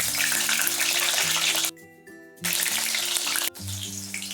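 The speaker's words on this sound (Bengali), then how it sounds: "তো তেল দেওয়ার পর আলুগুলো আমি ভালো করে ভেজে নেব।" Potatoes frying in a generous amount of oil for chicken kosa give a steady, close sizzling hiss, with tonal background music running underneath and briefly dipping in the middle.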